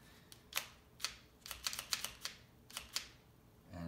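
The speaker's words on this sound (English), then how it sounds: "And it says you should hear a clacking sound." A UGears Wolf-01 wooden handgun model clacks as its mechanism is worked, a quiet series of sharp, irregular wooden clicks in quick succession.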